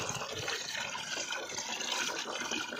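Water running steadily from a tap or pipe as it fills a container in a cattle shed, a continuous, even splashing rush heard alone at a moderate distance.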